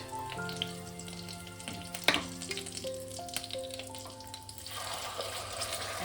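A mustard, poppy seed and green chili paste fries with garlic in a pan for a Dhaka-style hilsa dish, giving a steady low sizzle with stirring clatter and a sharp splash near the middle, while soft sustained musical tones play underneath.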